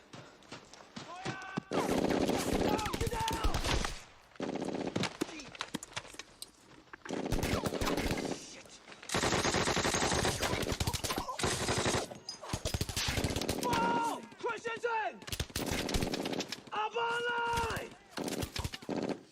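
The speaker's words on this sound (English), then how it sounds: "Bullets flying around." Machine gun fire from a Band of Brothers battle scene, with long loud bursts of rapid gunfire separated by brief pauses over roughly twenty seconds.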